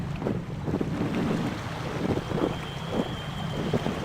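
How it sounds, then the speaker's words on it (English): Brook water running steadily in the Year Walk video game, a continuous rushing wash with soft surging swells, moderately loud and alone with no talk. "We hear the sounds of the brook."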